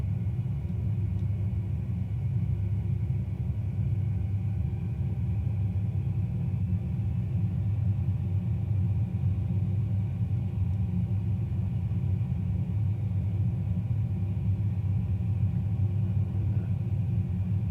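An aircraft taxis across the tarmac in a flight simulator game, heard as a constant low engine rumble and drone that holds at an even level throughout.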